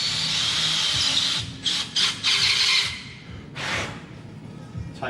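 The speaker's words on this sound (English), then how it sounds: "We just put a countersink tool in the drill" Drill fitted with a countersink tool cleaning up the back side of a drilled hole in a machined base mount for a tool eye on a Hyundai QT-15n, a loud whirring cut with squealing bursts that start and stop, close by with no talking.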